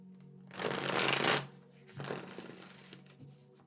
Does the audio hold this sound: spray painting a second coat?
no